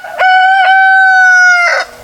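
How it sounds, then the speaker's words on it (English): A rooster crows loudly and close in a small backyard flock, one long sustained cock-a-doodle-doo with short clucking notes before and after. "that rooster in there is not the friendliest with our kids"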